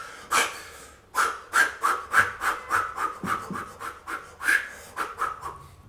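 A voice imitates people panting for breath, unable to breathe, with a quick series of harsh, rhythmic gasping exhalations, close and fairly loud, about a dozen in a row after a short pause.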